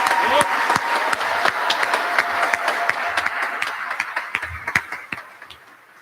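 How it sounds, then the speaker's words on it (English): Audience applause fills a military senior NCO induction ceremony at Maxwell AFB, a dense, steady wash of many hands clapping that thins into scattered, sharper claps toward the end. "Let's give her a round of applause."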